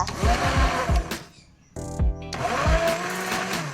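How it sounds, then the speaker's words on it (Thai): A kitchen blender purees clear aloe vera gel, running in loud, close whirring bursts with a brief pause in the middle before it starts up again. "นำไปใส่ในเครื่องปั่นแล้วปั่นให้ละเอียดเลยค่ะ"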